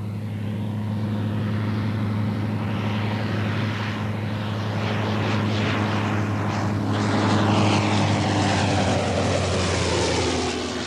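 A steady, loud droning rotary engine with a buzzing propeller tone from an early fighter plane, holding close and constant throughout, with a slight rise and fall in pitch.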